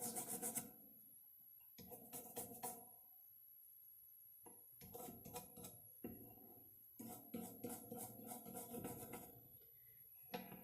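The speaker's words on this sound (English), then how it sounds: "Rub, rub, rub, rub, scrub, scrub, scrub." Scrubbing on a servo port circuit board, bursts of dry, raspy brushing strokes in quick repeated runs separated by short pauses, close and fairly faint.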